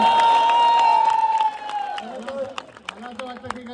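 A crowd cheers and applauds at a Govinda dahi handi celebration honoring a ten-tier human pyramid salute, loud at first then thinning into scattered claps and shouts, with voices mixed in throughout.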